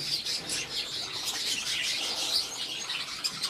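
Kept kakariki parakeets chirp in quick, bright, overlapping tweets at close range, a busy continuous chatter with no voices.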